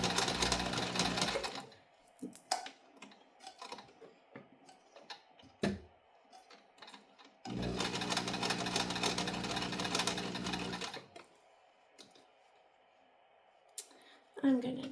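Sewing machine stitching baby booties in bursts, two long loud runs of rapid mechanical chatter separated by pauses, quiet handling clicks and a person talking between the runs.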